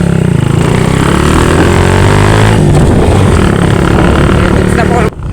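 A motorcycle engine runs steadily and loudly right after its carburetor and fuel tank were cleaned, a constant close idle with a rough, buzzing tone that cuts off abruptly near the end.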